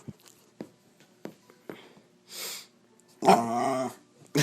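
A dog growls low and huffs in short breaths to get attention, with quiet sniffs and snorts between, then a longer whining growl near the end, close and fairly soft.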